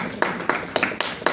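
An audience at a Hindi-Urdu humorous poetry gathering claps in a few sharp, spaced bursts, five or six distinct claps at a steady rhythm, fairly close and moderately loud.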